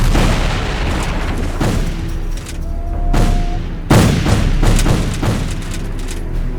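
Gunfire and heavy booms from a retro Civil War game, History Civil War: Secret Mission, with several loud shots and blasts, a sharp burst near four seconds, over a steady rumbling battle din.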